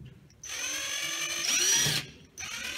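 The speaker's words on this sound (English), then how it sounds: "we're gonna get some screws in here real quick" A power drill drives screws into a wind tunnel build, one steady, loud whine running about a second and a half and rising slightly in pitch before cutting off, then restarting briefly at the end.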